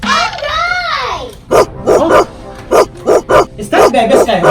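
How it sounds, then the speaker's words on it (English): A small dog barks in a rapid series of sharp, loud yaps close by, after a brief rising vocal sound at the start. "why is Baby barking a lot"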